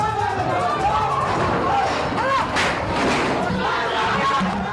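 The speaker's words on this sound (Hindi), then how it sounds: "गुस्साई भीड़ ने स्कूल में जमकर हंगामा किया।" An angry crowd riots at a school in Patna after a student's death, a dense roar of shouting and overlapping voices with scattered thuds, loud and steady throughout.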